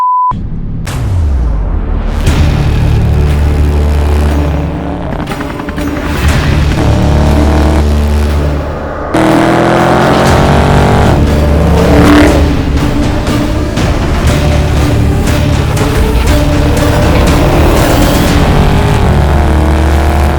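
A Dodge Charger 392 Scat Pack V8 in sport mode, loud and close, with a deep sustained engine roar that swells through repeated revs and accelerations, briefly dropping before surging again, no talk.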